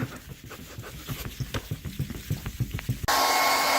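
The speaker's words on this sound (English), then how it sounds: "Use a high-end heat gun to speed up the process after you wet sanded" A heat gun blowing over wet-sanded car paint, a broad airy roar with a faint irregular patter beneath, then abruptly louder and steady at the end, close by.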